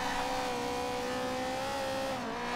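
A Ferrari engine in the racing game Forza Horizon 2 drones steadily at high revs, a constant tonal roar that shifts pitch slightly as it holds speed, with no talk over it.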